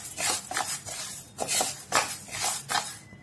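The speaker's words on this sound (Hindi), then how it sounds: "गेहूँ भी हमें थोड़ा सा भूनना है।" Wheat dry-roasted in a hot pan over a medium flame, stirred in quick bursts of metal spoon scraping and rattling against the pan, close and fairly loud with short pauses between strokes and no talk.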